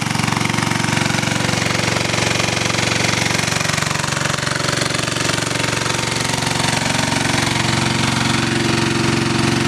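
A generator engine fuelled by a wood gasifier runs loud and steady nearby, a constant throbbing drone with no breaks.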